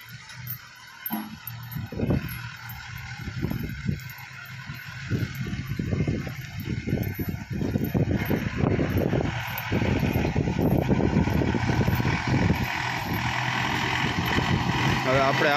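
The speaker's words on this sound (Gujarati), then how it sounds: "આપણું મહિન્દ્રા 475 ભરાઈને આવી રહ્યું છે." A loaded Mahindra Bhoomiputra 475 tractor draws closer with a steady engine rumble that grows louder and more constant, overlaid by mechanical rattling and clanking, while someone talks throughout.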